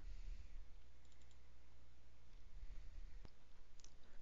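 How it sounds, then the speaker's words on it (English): Mouse clicks on a computer running Microsoft FrontPage 2003: a few sharp, isolated clicks heard close over a quiet background hum, with no speech. "click Import Website Wizard"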